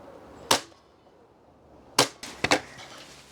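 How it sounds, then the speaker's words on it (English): An electric staple gun fires into a wooden picture frame: one sharp snap, a pause, then a quick cluster of three close, loud bangs, with no voices. "Moving on, an electric staple gun."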